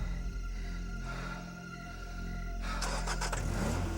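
A car's engine runs steadily and then revs harder as the vehicle pulls away and flees the scene after an assault. The engine sound is loud and close, with no voices.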